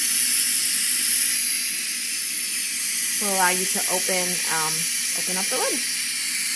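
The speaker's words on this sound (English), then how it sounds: "it's going to release the rest of the pressure out of the unit" An electric pressure cooker vents its remaining steam pressure in a steady, loud hiss that runs the whole time, while a person talks over the latter half.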